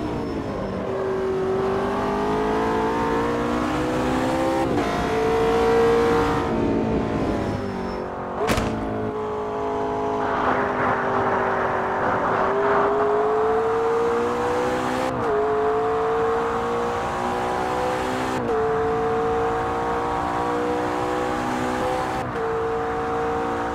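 GT3 race car engines in the Automobilista 2 racing game drone steadily, pitch rising and falling through gear changes with repeated upshifts, a sharp click partway through, no talking.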